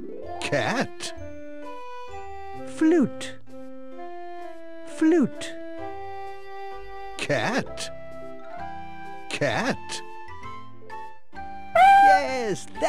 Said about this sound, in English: A cat is a curious creature.